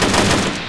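A rapid, loud burst of automatic gunfire in the military shooter game Arma 3, continuous close shots packed tightly together.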